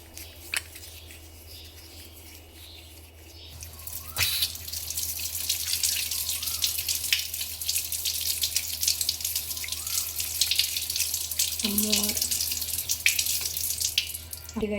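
Water runs from a tap over a brass Lakshmi idol being washed after cleaning, a steady splashing hiss that grows fuller as the item is moved under the stream, with small clinks and shifts.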